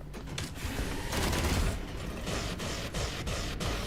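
Weapon fire from The Last Caretaker, a dense mechanical clatter of rapid shots and ratcheting machinery that runs the full few seconds at steady loudness, with no voices.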